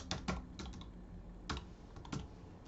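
Keystrokes tapped on a computer keyboard while entering figures into an inventory spreadsheet, several quick clusters of clicks with pauses between, close and fairly quiet over a low steady room hum.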